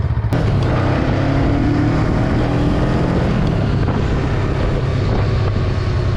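Riding a 2022 Honda Rebel 500 motorcycle, with heavy roaring wind noise across the microphone and the engine droning underneath, loud and constant throughout.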